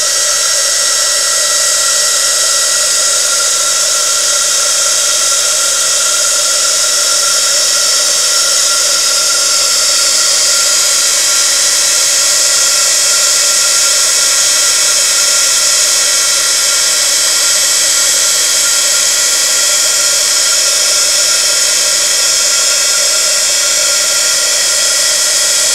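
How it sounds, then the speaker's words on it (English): A heat gun blows steadily while heating embossing powder on a paper tag, a loud, unbroken whining whoosh held close throughout with no pauses or talk. "I should stop talking before I actually start playing with my heat gun."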